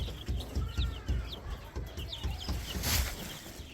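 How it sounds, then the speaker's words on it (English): Chickens cluck in short, repeated bursts close by, with a rooster-like call and a low rumble running underneath, in a farmyard setting. "Happy chickens."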